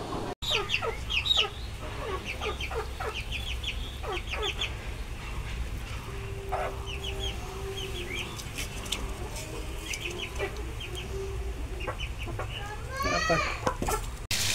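An egg-laying hen clucks repeatedly before being slaughtered, with sharp, close clucks and squawks over a rural yard background and faint voices nearby.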